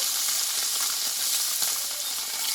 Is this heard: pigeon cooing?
no